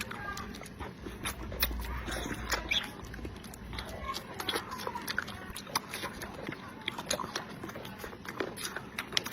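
Someone eats braised chicken feet close to the mic, with wet chewing and sucking noises mixed with crisp clicks of bone and utensils, continuous and busy.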